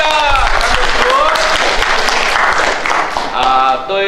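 An audience claps in a church service, a dense burst of applause that swells and continues for several seconds while a voice speaks over it.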